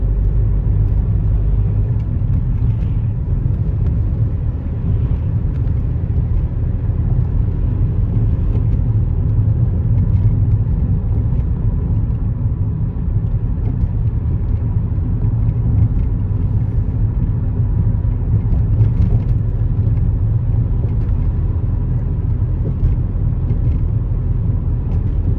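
Interior of a car driving through light morning traffic on the way to work. A steady, loud low rumble of road and engine noise continues throughout, with no one speaking.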